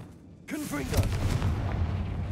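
Confringo blast spell in Hogwarts Legacy, a booming fiery explosion that erupts suddenly after a quiet moment and keeps rumbling loudly, with a brief voice over the start.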